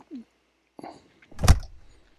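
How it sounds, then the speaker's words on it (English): An aircraft cabin door is shut in the X-Plane flight simulator before a flight from Easton State to Cle Elum, Washington. A short scrape is followed by one solid closing thunk with a brief rattle. "first thing is to get these doors closed"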